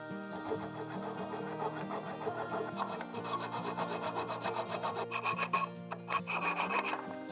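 A plastic piece, the ear on an RV slide awning, being cut off. The sound is a close, steady rasping saw stroke that runs continuously at moderate level with a rhythmic back-and-forth texture, and no one speaks.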